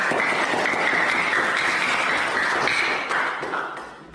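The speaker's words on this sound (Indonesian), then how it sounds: "Tepuk tangan dulu untuk kelompok." Sustained classroom applause as students clap for a group after its presentation, dense and steady for about three seconds before tapering off.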